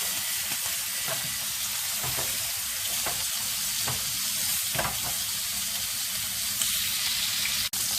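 A cooked sous vide ribeye steak sears in a hot pan, giving a steady, loud, close sizzle with crackling and popping that carries on for several seconds with no talk over it.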